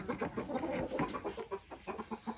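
Laying hen in a chicken coop clucking in a quick series of short, close, moderately loud calls, with no talk.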